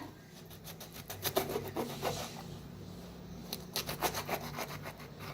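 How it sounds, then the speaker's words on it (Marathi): A knife slices through bhongi chillies on a board in a home kitchen, giving a run of quick, close scraping cuts in two bursts with a short pause between them. There is no talking. "आता मिरच्या घेतल्या त्या मिरच्या कापून घ्यायच्या"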